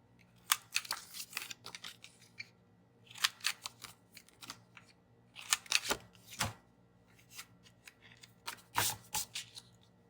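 A corner chomper punch bites through the corners of a Paperblanks reading journal, giving several sharp crisp clicks and crunches in uneven bursts, close and alone in a quiet room.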